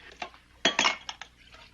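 Glass and dishes clink in a kitchen at night as someone gets a glass of water, a few sharp separate clinks, the loudest pair in the middle, moderately close with no talk.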